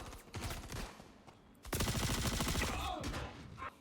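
Custodian gun fire in the Star Citizen first-person shooter, rapid bursts of automatic shots, a short volley then a longer louder string of rounds, with faint other sounds in between.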